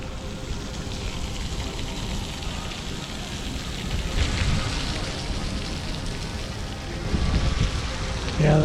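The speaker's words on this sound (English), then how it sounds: "It's windy here, so sorry if the wind is..." Wind gusting over a microphone beside a river near Savannah, Georgia, a steady broadband rush with louder surges near the middle and end, with no talking in the clip.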